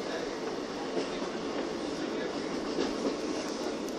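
Train running through the crossovers on departure from Newark Northgate, with a steady broadband rumble of wheels and carriage noise and faint clicks over the pointwork, close and continuous throughout.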